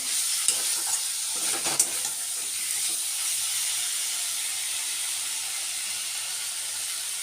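Spices fry and sizzle in a pan for a taro-and-tengra fish curry while being stirred, a steady close hiss broken by a few sharp scraping strokes early on, then settling into continuous frying.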